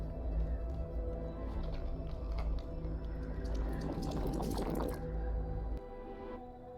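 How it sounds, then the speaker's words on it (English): A water processor mutation in the game The Eternal Cylinder turning ingredients into water, heard as soft drips and a gurgling pour over a steady background hum, the liquid swelling briefly near the end before fading. "The water processor mutation is constantly processing ingredients found in its inventory slots, transforming them into water"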